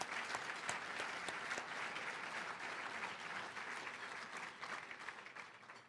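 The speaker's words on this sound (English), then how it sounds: "Please join me in giving them a round of applause." Guests at a fall gala applaud warmly, a full round of clapping with a few sharp claps near the front that slowly tapers off toward the end.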